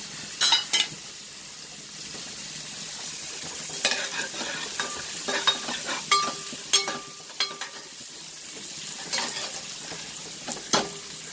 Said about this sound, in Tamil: கடுகு வெந்தயம் பொரிஞ்சோடனே வெங்காயத்தை பட்டச்சி கருவேப்பிலை ஆட் பண்ணிக்கலாம்.